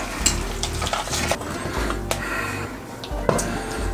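Choux pastry dough beaten with a whisk, rapid rhythmic scraping and slapping against a bowl, close and moderately loud, with a faint tonal hum beneath and a sharp knock near the end.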